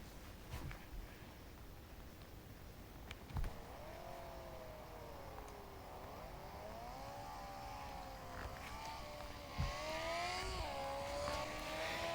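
Drift race cars in a video game whine and rev in rising and falling sweeps over a low rumble, the engine tones wavering through several slides and growing louder near the end.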